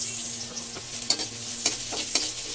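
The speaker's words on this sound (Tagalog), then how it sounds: "Ang aking pagigisahan ay pinaglutuan ng tokwa. Bawang. Sibuyas." Garlic and onion sautéing in oil left over from frying tofu give a close, steady sizzle, broken by three sharp metallic scrapes and taps of a utensil against the pan, with no one talking.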